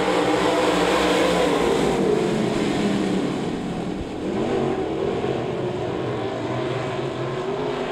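A field of race cars taking the green flag at Devil's Bowl Speedway, a loud continuous roar of many engines that swells, dips briefly, then builds again.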